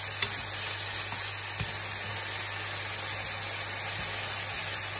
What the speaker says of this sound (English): So, once the bacon cooking away, get the pasta.